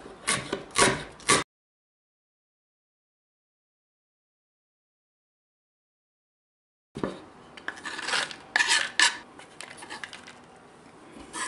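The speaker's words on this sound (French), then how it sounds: "Le poireau, on va le couper en deux, puis en deux, et l'émincer finement." A kitchen knife finely slices a halved and quartered leek on a board for a homemade chicken curry, giving quick rhythmic cutting taps and scrapes in two separate runs with a silent gap between them, close and clear.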